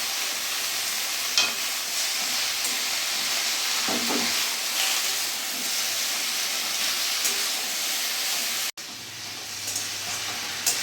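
Malabar spinach leaves fry with mixed vegetables and spices in hot oil, giving a steady, close sizzle and hiss throughout, with a few faint stirring scrapes and a brief dropout near the end.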